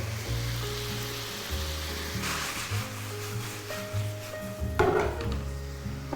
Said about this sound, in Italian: Aggiungo i pomodorini, un pochino di sale